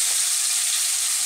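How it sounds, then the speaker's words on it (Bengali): Shrimp seasoned with turmeric and salt fry in a pan for a fig and shrimp dish, producing a loud, close, continuous hissing sizzle, with no voices. "চিংড়ি মাছটা বেশি ভাজা যাবে না, হালকা ভেজেই আমি তুলে নেব"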